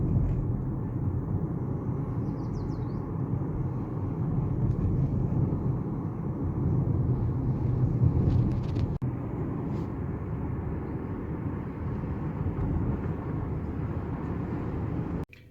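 A car driving along, heard as a steady low rumble of engine and road noise throughout, with a brief thump right at the end.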